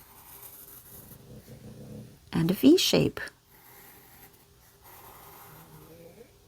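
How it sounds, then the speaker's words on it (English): A dog snores softly in the background, faint low rumbling breaths running under a person talking, with a brief louder snort-like burst near the middle. "With my dog snoring in the background."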